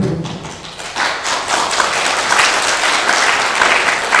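Audience applause at a lecture on Korean traditional folk painting and lacquer art, a dense crowd clapping steadily at close range after a brief quieter start, with no talk over it.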